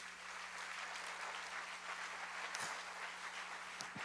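A church congregation applauds during a sermon, a steady wash of clapping held at a fairly distant, even level throughout.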